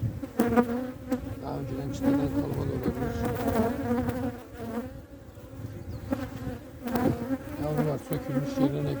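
Honey bees swarm over a frame pulled from a split beehive, a dense, steady buzzing hum with higher whining tones from individual bees flying close by, continuous throughout with no talking.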